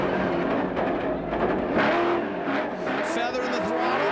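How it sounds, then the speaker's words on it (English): An off-road race truck with a manual transmission downshifts at a 2006 CORR event, its engine roaring and rising and falling in pitch as the throttle is feathered, with voices talking over it. "Listen to him downshift."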